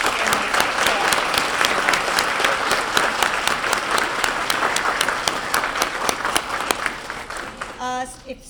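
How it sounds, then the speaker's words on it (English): An audience at a school awards ceremony claps for parents and staff, sustained applause with crisp individual claps standing out, fading as a voice begins to speak at the end. "Let's have another round of applause for our parents and staff."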